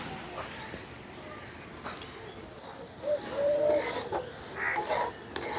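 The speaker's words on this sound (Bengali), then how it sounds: "সুজির সঙ্গে মশলাটা ভালো করে মিশিয়ে নিচ্ছি।" Roasted semolina stirred with spices in a pan, a dry, scraping rasp of spoon against metal and grains in repeated strokes, close and fairly loud.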